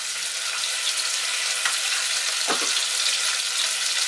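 Onions and red chilies fry in a hot pan for Trinidad-style geera pork, giving a steady, close, loud sizzle with a brief stir or clatter partway through and no talking.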